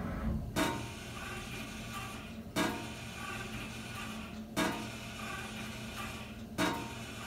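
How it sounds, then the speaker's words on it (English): A CNC mill drilling holes: a steady mechanical machining drone with a sharp clunk roughly every two seconds, four in all, nearby and fairly loud. "Did it drill that first hole all the way through?"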